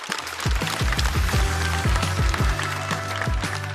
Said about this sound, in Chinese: 我们再次掌声送给秋瑞